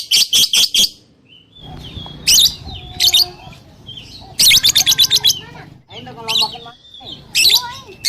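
An oriental magpie-robin sings close by in rapid bursts of sharp chirps and whistled phrases, broken by short pauses, while people talk in between.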